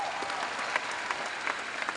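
Middle-class audience members at a Delhi business success day event clap together, a steady dense patter of applause with a few sharper claps standing out, moderately distant and unbroken for the whole stretch.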